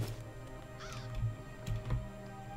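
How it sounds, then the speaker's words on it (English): Crows caw in the video game Fer.al, a couple of short harsh calls spaced out over a low steady ambient game background. "Look at all these crows enjoying seed."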